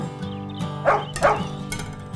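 A dog barks twice in quick succession over the music of a Spanish children's song. The barks are loud and clear, with the melody continuing steadily underneath.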